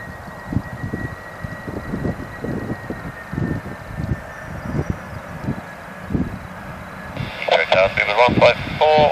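An Air ACT cargo Boeing 747-400F lands at London Heathrow, its engines giving a steady roar with rumbling gusts over the whole stretch, while air traffic control radio talk plays over it and gets louder near the end.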